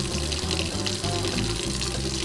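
Steady running water from a tap or bath while a child's face is rinsed at bath time, a constant splashing flow.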